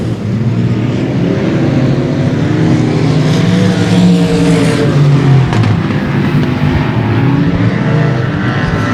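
Race cars roar around a speedway oval during a heat race, a continuous loud engine drone with rising and falling revs as cars pass, no talking.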